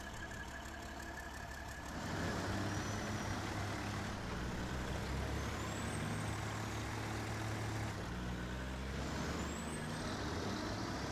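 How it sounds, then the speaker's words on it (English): A Kenworth truck engine idles and rumbles steadily in the SnowRunner video game, a constant low drone that swells slightly after a couple of seconds, with no talking. "Engine sounds great."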